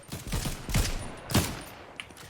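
Gunfire in a battle-royale video game, with several separate distant shots or short bursts spread over a couple of seconds, moderately loud and with no talk over them.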